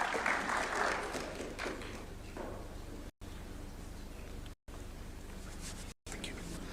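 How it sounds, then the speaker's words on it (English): Applause from a crowd welcoming a speaker at a formal event, a broad steady patter of many hands clapping that carries through the whole stretch, fairly distant and even. "Let's welcome him with a warm clap,"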